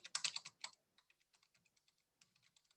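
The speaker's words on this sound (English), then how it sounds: "So I am going to type in here" Someone types on a computer keyboard: a loud flurry of fast keystrokes first, then lighter, scattered taps with short pauses, close and alone without talk.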